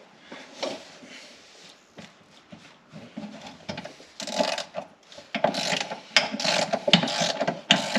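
A ratchet with a 16 mm socket and a short extension turns a bolt on a BMW X3 or X5 transfer case, giving close, irregular bursts of clicking that grow louder toward the end.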